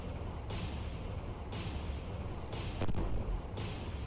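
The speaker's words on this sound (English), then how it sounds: "He's starting to engage with his main guns now." A destroyer's main guns fire in the naval submarine game Cold Waters, four evenly spaced muffled booms about a second apart over a low, rumbling underwater background.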